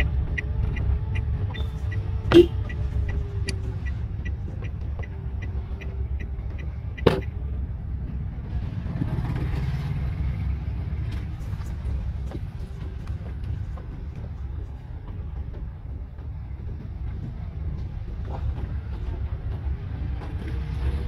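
A manual car creeping in second gear with the clutch half engaged on a narrow, damaged road, giving a steady low engine drone throughout with a couple of faint clicks and knocks.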